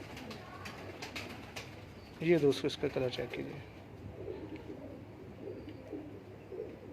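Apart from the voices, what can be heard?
domestic pigeon cooing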